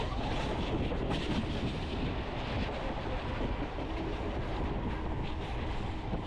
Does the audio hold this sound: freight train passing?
yes